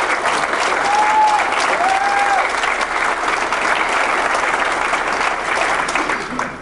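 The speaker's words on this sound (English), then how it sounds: "Let's give a round of applause to Pam Stout." Sustained applause from an audience at a political caucus meeting in Spokane, steady and fairly loud across the whole stretch, with a faint whistle-like tone rising briefly near the start.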